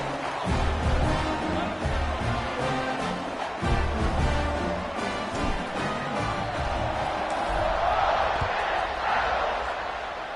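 A stadium crowd in the College Football 26 video game roars and buzzes steadily after a touchdown, forming a dense, loud wash of cheering that holds for the full stretch, with a commentator's voice running over it.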